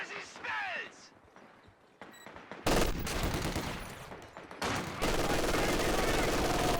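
Machine gun fire from a building in a Company of Heroes 2 battle: dense, loud rattling bursts that start after a quieter lead-in and carry on almost continuously.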